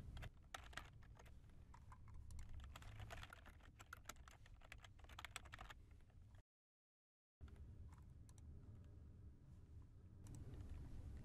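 Rapid keystrokes clatter on a computer keyboard, continuous and close, with a brief silent gap before the typing resumes.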